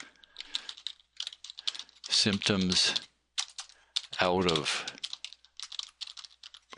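Rapid clicking of a computer keyboard, typed in short bursts close by, interrupted twice by a person speaking.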